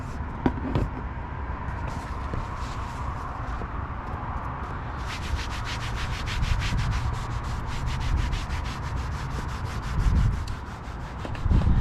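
A cloth rubs 3D GLW SiO2 ceramic trim restore onto car plastic trim in close, continuous scrubbing strokes, turning into a fast rhythmic back-and-forth scrub midway, with no talk.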